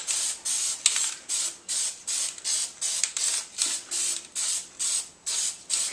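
Aerosol spray can applying a white prime coat to a Chauvet Q-Spot 260 LED light fixture, about a dozen short even hissing bursts in a steady rhythm, close and alone.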